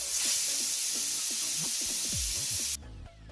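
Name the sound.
pressure cooker whistle and steam hiss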